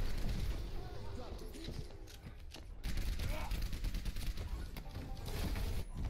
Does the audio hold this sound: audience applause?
no